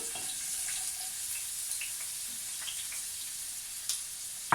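Half a large onion frying in oil in a pan while cooking spaghetti bolognese, a steady soft sizzle with faint crackles and a few light stirring clicks, heard alone without talk.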